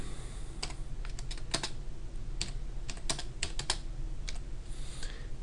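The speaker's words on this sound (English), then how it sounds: "let me go ahead and type that onto the graph using this text tool" Fingers type on a computer keyboard, entering a label into graphing software. Crisp, irregular clusters of close keystrokes run throughout, with short pauses between bursts and no talking.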